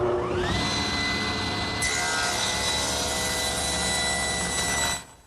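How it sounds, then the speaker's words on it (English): A table saw fitted with a thin kerf blade rips narrow wood strips, its loud steady whine spinning up and holding through the cut before dropping off at the end; no voices. "So I've set up my table saw with what's known as a thin kerf saw blade."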